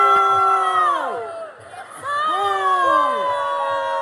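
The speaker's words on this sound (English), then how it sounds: "And they're all booing him, and he just kept doing it." A crowd boos and jeers at a LARP event in Germany, many overlapping voices with falling, drawn-out tones, briefly dipping mid-way before swelling again into sustained, loud disapproval.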